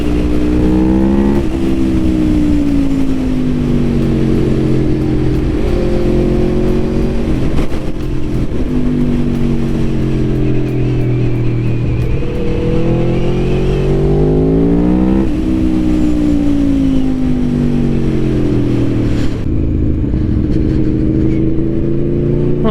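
A 2021 Aprilia Tuono V4 Factory motorcycle runs continuously with its engine note climbing and falling through repeated throttle rises, loud and close, with the sound echoing off the road and no talk.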